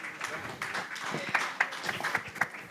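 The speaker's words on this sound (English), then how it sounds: "A round of applause for him," Audience applause at a Lagos citizen town hall, scattered clapping with a few sharp claps, mixed with crowd voices.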